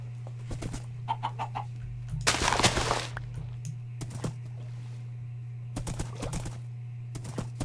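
A Minecraft video game chicken gives short, separated clucks in scattered bursts over a steady low hum, fairly close and moderately loud, with no voices.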